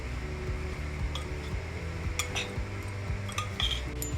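Raw banana pieces are tossed and stirred with black pepper and turmeric powder in a bowl, giving faint, close scraping and a few light clinks of a spoon against the dish over a steady low hum.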